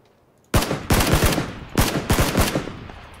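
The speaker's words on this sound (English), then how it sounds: "Being shot from the tree right in front of me, southeast." Close bursts of automatic gunfire from an enemy hidden in a tree in PUBG, coming in several rapid volleys separated by short pauses, loud and sharp with no talk over them.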